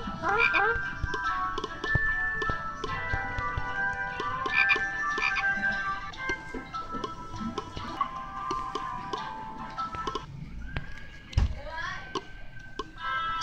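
Frogs croak in a busy, overlapping chorus that runs continuously and fairly loud, layered with sustained tonal, music-like sounds.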